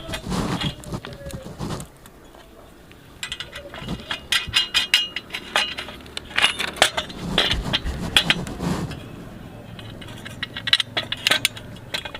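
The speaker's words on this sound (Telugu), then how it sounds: "ఈ రెండు స్క్రూలను ఈ విధంగా ఫిక్స్ చేసుకోవాలి" Screws are tightened by hand into an Airtel DTH satellite dish mount, giving close, irregular metallic clicks and ratcheting scrapes with short gaps between turns and no voices.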